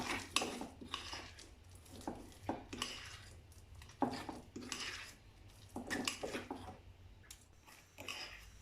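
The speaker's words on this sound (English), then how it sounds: "Keep mixing until you make sure that the flour is properly incorporated into the batter." Spoon scraping and clinking against a bowl while plantain akara batter is mixed with flour, a steady run of close, repeated stirring knocks and scrapes in an uneven rhythm.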